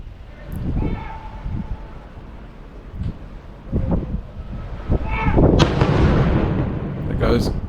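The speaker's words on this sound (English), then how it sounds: "a sail away from Portland you were given a cannon salute." A cannon salute booms out as a cruise ship sails away from Portland, with several sharp, loud blasts spaced a few seconds apart over wind and background noise outdoors.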